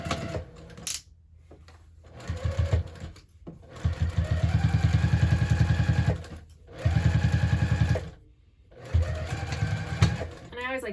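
A sewing machine stitches bag pieces placed right sides together in several bursts. Each run is a loud, rapid mechanical whir, separated by brief pauses, and a voice talks between the runs.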